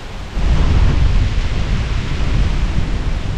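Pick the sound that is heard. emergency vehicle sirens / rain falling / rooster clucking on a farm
rain falling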